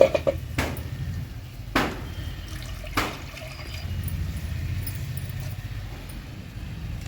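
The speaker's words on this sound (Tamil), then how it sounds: "இப்போ தண்ணி கொதியுது" Water heats to a boil in a pot on a stove for cooking moong dal, giving a steady low bubbling rumble with a few sharp clicks near the start.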